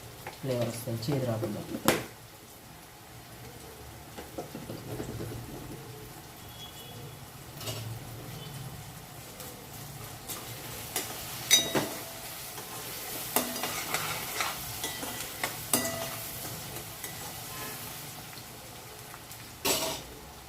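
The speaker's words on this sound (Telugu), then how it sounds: "కొంచెం జీలకర్ర మెంతుల పొడి వేసుకుని వేగాలండి" Cumin and fenugreek powder fry in a pan with a soft, steady sizzle, broken by occasional scraping stirs and clicks, while a person speaks over it.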